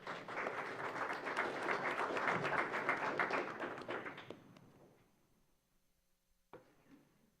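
City commission meeting attendees in Traverse City applauding after a gun violence awareness proclamation, a room of clapping that swells, then fades out around four seconds, leaving quiet and a single thump.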